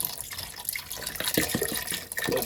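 Swanson's chicken broth from a 48-ounce carton, lower in sodium, pours into a pot in a continuous close-up gurgling splash of liquid with uneven bubbly glugs.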